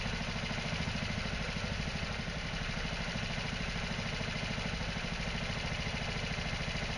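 Hydrogen-fuelled scooter engine with top-of-carburettor injection idling roughly, a steady fast low putter that sounds ready to stall, close and continuous with no voices.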